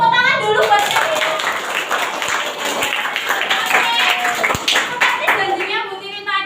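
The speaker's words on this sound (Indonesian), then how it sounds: "Tepuk tangan dulu buat kalian." A classroom of schoolchildren clapping together, a busy, fairly loud burst of hands with children's voices and excited chatter mixed in throughout.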